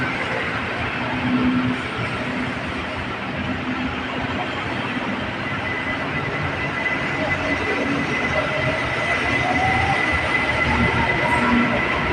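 A BTS Skytrain on the Silom line arrives at Saphan Taksin station, rumbling steadily nearby with a broad rolling roar and faint metallic whine, passengers' voices murmuring underneath.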